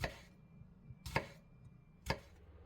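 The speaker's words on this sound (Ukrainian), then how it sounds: "Для начинки нашого пирога нарізаємо половину рівчастої цибулі та один невеликий помідор півкільцями" A knife cuts half a ribbed onion and a small tomato into half-rings, giving three faint, evenly spaced chops on a board about a second apart in a quiet room.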